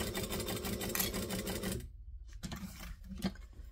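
A sewing machine top-stitches a stubbie cooler in quick, even needle bursts, close and loud, stopping briefly midway before a few short stitches resume.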